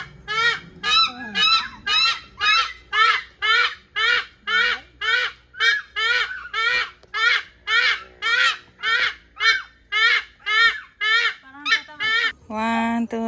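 Zoo geese at Zoori Zoo in Tagaytay honk loudly and rhythmically, about twenty regular calls in a row close by, with faint background voices.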